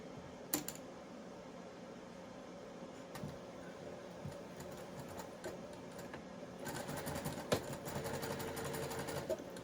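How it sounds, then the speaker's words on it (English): A sewing machine runs steadily while stitching the side seams of a small doll blouse, a continuous mechanical whir with a few clicks and a busier, louder stretch near the end. "So now we're going to sew that together."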